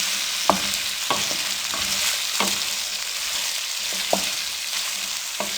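Okra sizzling in cooking oil over a low flame, a steady crackling hiss with a few sharp stirring knocks scattered through it, close and moderately loud, no talking.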